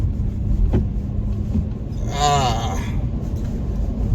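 Road traffic rumbles close by, a steady low vehicle drone with a brief passing whine, while a voice speaks partway through.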